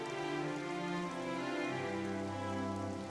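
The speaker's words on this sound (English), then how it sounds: "Yeah, it's because it's raining." Steady rain falls in Xenoblade Chronicles 3, a continuous soft hiss of drops mixed with sustained tonal game music, with no talking.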